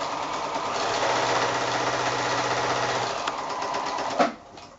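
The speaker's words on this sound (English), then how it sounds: "flipping that one over and sewing this seam here, and then back to the sewing machine" A sewing machine stitches a quarter-inch seam joining 5-inch novelty quilt squares, running in a steady, fast whirring hum for about four seconds before a clunk and stop.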